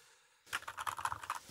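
Rapid keystrokes on a Razer BlackWidow V3 Mini mechanical keyboard fitted with linear silent switches, a quick close run of soft, muffled taps that starts after a short quiet lead-in, with no talking.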